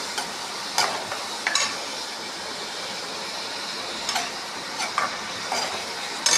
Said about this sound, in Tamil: அடுத்தது தக்காளி போட்டுடலாம். தக்காளி வதங்கட்டும்.